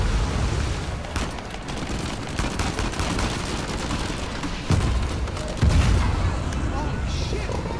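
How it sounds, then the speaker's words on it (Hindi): Gunfire in the video game Uncharted 4, rapid bursts and booming shots clattering continuously, loud and dense, with a couple of heavier impacts standing out near the end. "और अभी तो और बहुत गोलियां मार रहे हैं"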